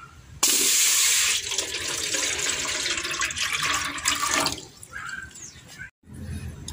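Water is poured steadily into a pot on a heater for sterilizing raw rice husks, a loud splashing stream lasting about four seconds before tapering off, followed by faint drips and handling noises.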